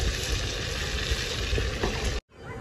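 Dried red chillies, whole garam masala and bay leaves sizzle in hot mustard oil with a little butter, a dense steady crackle that runs loud and continuous before cutting off abruptly near the end.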